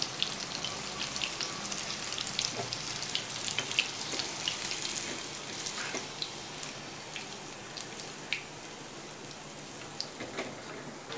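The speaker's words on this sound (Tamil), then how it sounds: "நல்லா சிக்கன் நல்லா ஃப்ரை ஆகிடுச்சு நல்லா வெந்துடுச்சு" Chicken 65 pieces frying in hot oil, a steady close crackle and sizzle with scattered sharp pops throughout.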